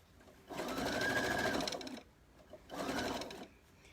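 Sewing machine stitching a children's t-shirt dress, running in two steady bursts, a longer one then a shorter one, close and fairly quiet with brief pauses between.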